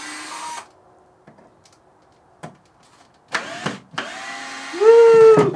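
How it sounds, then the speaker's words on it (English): A drill gun backing screws out of the top of a homemade bow vise, with brief motor bursts and then a rising whine that holds near the end, loud and close after a quiet stretch. "next up, we got the drill gun. So we're going to take apart the top of this one."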